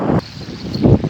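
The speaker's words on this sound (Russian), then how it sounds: "Ветер тоже ужасный." Wind buffets the microphone outdoors by a lake while fishing for crucian carp from the shore, with two loud low rumbling gusts at the start and end and a quieter lull between them.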